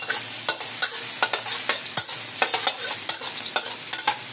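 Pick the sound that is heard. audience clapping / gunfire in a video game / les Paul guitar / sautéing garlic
sautéing garlic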